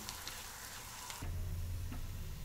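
Coriander and tamarind chutney cooking in hot oil, a steady close sizzle and bubbling that deepens and grows fuller partway through, with a faint tick of a utensil and no voices.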